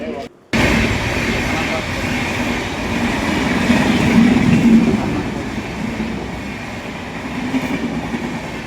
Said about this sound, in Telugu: సో ట్రైన్ వస్తుంది చూడండి.